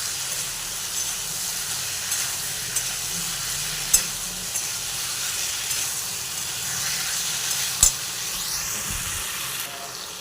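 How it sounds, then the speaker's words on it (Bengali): Spice paste stir-fried in a pan while bitter gourd leaf and elephant foot yam dishes are made, giving a steady, loud sizzle with faint scraping of the stirring throughout and two sharp clinks. "মশলাটা দেওয়ার পর এবার আমি কিছুক্ষণ কষিয়ে নেব।"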